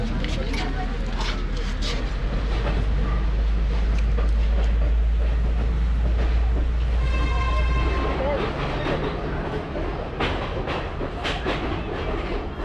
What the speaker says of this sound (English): it was not so easy to board the train